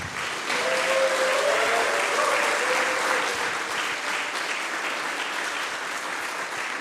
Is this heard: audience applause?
yes